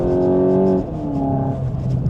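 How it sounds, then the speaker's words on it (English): Exhaust note of a Volkswagen Golf GTI Edition 50 with the Performance Pack, a steady droning engine tone with harmonic layers that drops in pitch partway through as revs fall, close and fairly loud. "The exhaust makes a really nice noise."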